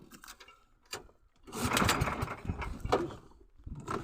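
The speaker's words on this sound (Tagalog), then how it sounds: "Sandar na tayo ng makina at mamamahila na." A small fishing boat's engine starting and running on a calm sea, a faint mechanical chugging that swells after a quiet, sputtering start and carries on unevenly with rattling, ratchet-like clatter.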